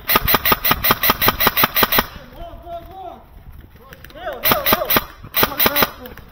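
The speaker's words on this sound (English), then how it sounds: "You can just hear all the rounds hitting around us." Airsoft gunfire at an outdoor field: rapid bursts of sharp, evenly spaced snapping shots open the clip, give way to a lull with a distant engine-like drone and faint voices, then return in two closer bursts of popping rounds.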